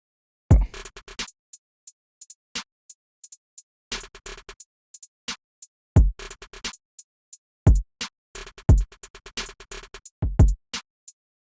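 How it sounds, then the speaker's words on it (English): Punchy snare drum rolls in a hip-hop type beat burst in short rapid clusters between sparse ticking hits, forming a dry, choppy beat with no voices. "And I just added some snare rolls,"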